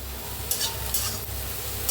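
Tender cluster beans (gavar) are stirred and roasted in oil in a pan, with a constant close sizzle broken by a few sharp scraping strokes of a spatula.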